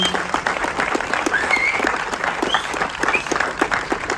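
Applause from an audience at a film premiere night for cinematographer Ankit, a dense sustained clapping that swells and holds for a few seconds, near and loud.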